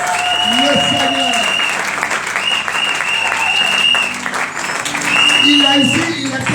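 A congregation claps loudly to acclaim the Lord at a night prayer gathering at a temple in Cocody, steady continuous applause with voices and sustained tones riding over it.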